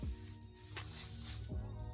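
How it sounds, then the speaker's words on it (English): An Evian facial spray mists onto a face in two short hissing bursts, close and soft, in a quiet indoor setting. "I am going to just spray my face. This is the Evian facial spray."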